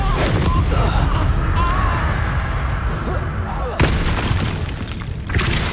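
Booming blasts from the Expulso explosion spell in Hogwarts Legacy, dense and loud, with a sharp burst partway through under ongoing game noise and occasional spoken spell names.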